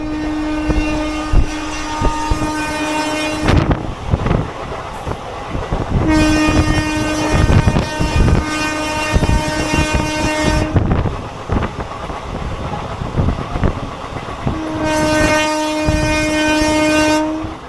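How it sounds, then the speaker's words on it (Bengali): The Paharia Express runs from Howrah to Digha with loud, close wheels rumbling and clattering on the rails, broken by three long, sustained horn blasts. "দেখো ওই দূর দিয়ে কিন্তু একটা ট্রেন যাচ্ছিল, দুর্দান্ত জাস্ট দেখতে লাগছিল।"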